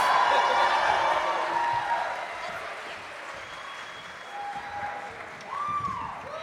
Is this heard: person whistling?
no